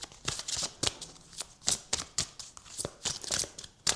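Oracle cards being shuffled by hand, a rapid series of crisp riffling bursts and papery flicks in an irregular rhythm, close and fairly loud with no talking.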